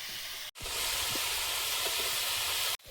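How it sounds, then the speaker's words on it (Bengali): Steam hisses steadily from a pot of boiling spinach. The hiss is loud and continuous, broken by two short silent gaps. "পালং শাকটা সেদ্ধ হচ্ছে"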